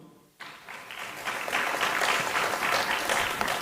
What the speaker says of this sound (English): Bigger round of applause, ladies and gentlemen.